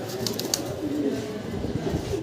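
Spanish pouter pigeons, a running pair, give low cooing murmurs close by, a steady soft rumble with a few brief higher flutters and no talk.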